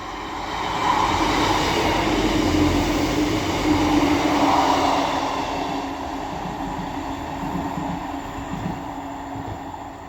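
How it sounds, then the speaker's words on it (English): A Class 158 diesel multiple unit on a Leeds to Wigan Wallgate service passes through Castleton station, a steady loud rumble of wheels and engine sustained throughout with rail hiss, rising and easing slightly, no talking. "So now coming through will be a Class 158 running from Leeds to Wigan Walgate."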